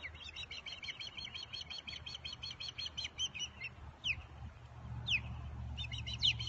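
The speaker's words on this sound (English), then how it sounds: "They're osprey, I think." Baby osprey chicks call at a nest with rapid, repeated high chirps in quick rhythmic bursts, then a few sharper single cries. The sound is moderately close over a low rumble of wind or ambient noise.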